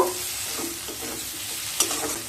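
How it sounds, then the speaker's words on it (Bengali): Chopped medium-size tomato with spices sautéed in a pan for a snake gourd malai curry: a steady, close sizzle with a few stirring scrapes, one sharper clack near the end, and no voices. "টমেটো দিয়ে আবার কয়েক সেকেন্ড খুব ভালোভাবে কষিয়ে নেব।"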